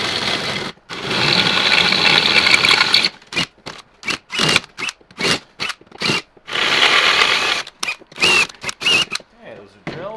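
Holes are drilled through steel tow brackets for a Suzuki Jimny: a power drill whirs loudly in a long opening run, then in a series of short, close, choppy bursts separated by brief silences.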